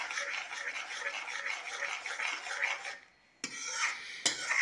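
Spices with hing are rubbed and stirred around a pan for a soya chaap masala, a steady raspy scraping that pauses briefly and then resumes with two sharp scrapes.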